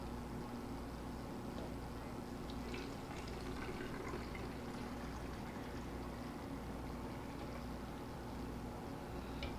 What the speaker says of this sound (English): So now we got to pour this in there, hopefully without spilling